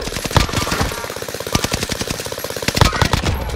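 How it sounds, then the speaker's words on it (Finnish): Rapid automatic gunfire and sharp shots in a Fortnite match, dense bursts of loud rattling fire running nearly continuously with a few heavier impacts, no talk over it. "Joo, ne ampuu siinä, soditaan."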